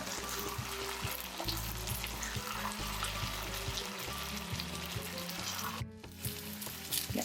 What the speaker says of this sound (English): Make sure to move around the potatoes while they're cooking.